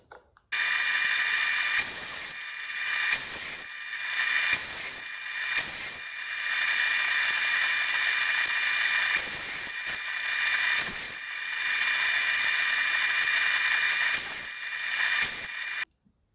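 Crown molding being cut to length at a miter box for a kitchen lighting makeover, a loud, steady rasping saw run lasting most of the stretch, broken by a few brief pauses between strokes, with no talking.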